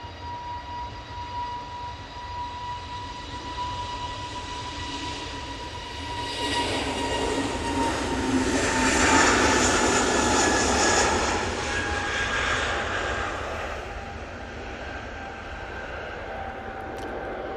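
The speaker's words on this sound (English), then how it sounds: "SAS A320 Neo on the roll" SAS Airbus A320neo on its takeoff roll at Manchester Airport, a distant jet engine roar building to a broad loud swell mid-clip and easing off, with a steady tonal whine underneath and no talk.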